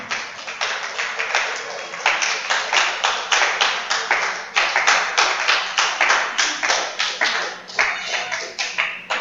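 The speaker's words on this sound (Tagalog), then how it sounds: "Palakpakan po muna natin ang ating Panginoon." A church congregation clapping in praise, loud rhythmic handclaps in a steady even beat that continues throughout, with no talking.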